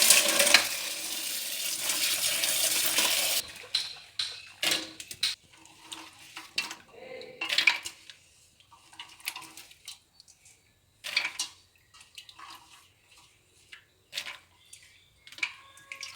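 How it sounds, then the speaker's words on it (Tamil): Groundnuts are rinsed in a bowl of water, starting with a few seconds of steady running water, then irregular splashes, sloshing and light clatters of the nuts and vessel being swirled, close and fairly quiet. "இன்னொரு டைம் கழுவிட்டு"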